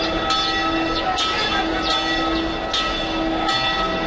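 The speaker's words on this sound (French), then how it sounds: "La cloche a sonné dans toutes les paroisses de l'église évangélique du Congo" Church bell rung at noon in an evangelical church parish in Brazzaville, Congo: repeated struck tones about once per second, moderately distant, over steady background noise and a faint hum.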